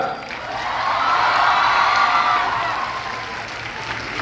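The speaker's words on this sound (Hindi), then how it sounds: "भैया के स्वागत में तालियां इतनी बजनी चाहिए कि जितनी पटना की इन हवाओं ने कभी सुनी ना हो" A Patna crowd applauds and cheers to welcome actor Pankaj Tripathi, a broad swell of clapping and whoops that builds, peaks mid-way and eases off.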